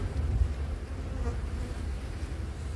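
Honey bees buzz at a hive in a large colony in Canada, a dense, close, steady drone with no pauses.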